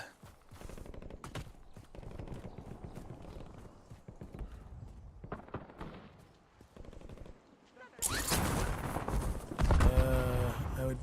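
Rapid gunfire and bursts of automatic shooting from bots fighting in the video game Warzone, heard amid busy in-game noise and footsteps, with a louder, denser burst of combat sound toward the end.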